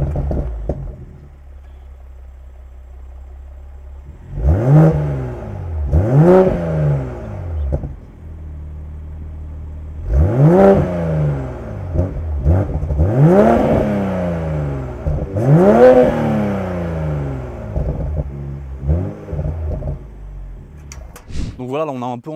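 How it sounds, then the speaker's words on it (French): A BMW Z4 M40i sports car engine is revved several times in quick bursts, each rising and falling whine standing out close to the microphone, with quieter idling between the blips. "là on a un peu entendu le son de la voiture"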